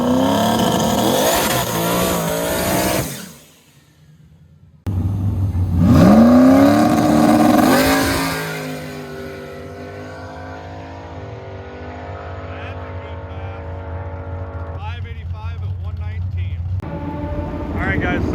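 A Ford race car hot lapping on a track, its engine revving hard and climbing, briefly dropping out, then roaring back up before settling into a steadier drone, loud and close.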